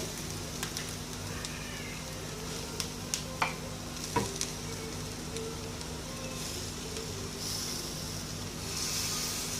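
Onion that has turned light brown fries in a pan with dry spices, giving a continuous rain-like sizzle. Several sharp spoon clinks and scrapes come in the middle, and the sizzle swells slightly toward the end.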